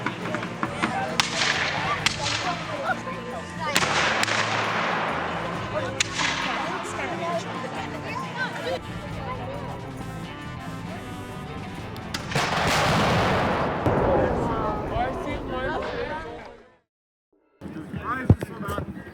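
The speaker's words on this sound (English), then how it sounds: "There's the first British fire." British historical reenactors fire a musket volley outdoors, loud cracking reports and rolling smoky booms repeating over a busy background with crowd noise and voices, then a brief silence before another sharp report.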